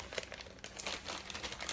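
A plastic bag of baking soda crinkles and rustles as it is handled and cut open with scissors, a quiet, close sequence of irregular crackles.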